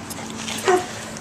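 A dog whimpers while hoping for treats, making one brief, slightly louder whine in the middle of a soft, short stretch with no talking.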